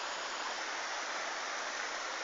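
The Túrovský waterfall at Turová pours in a steady, dense hiss of falling water, even and unbroken, heard close up with no voices.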